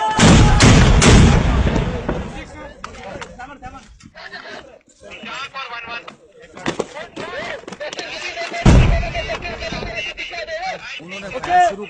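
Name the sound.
army gunfire and artillery fire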